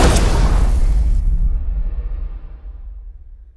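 A loud, designed roaring blast that rumbles low and decays into a long, stretched lion-growl tail fading out over a few seconds.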